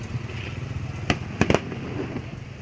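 New Year fireworks burst in the distance, a single sharp bang followed by a quick pair of cracks over a steady background murmur.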